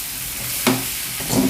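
Spicy Andhra-style Guntur chicken stirred in a hot pan with onion, garlic, chillies and sauce, a constant close sizzle broken by two quick scraping stirs of a spatula.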